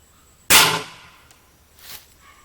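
A Beeman RS2 air rifle fires a .22 hollow point pellet: one loud, sharp crack that decays over about half a second, followed by a fainter thud or impact a moment later, with no voices.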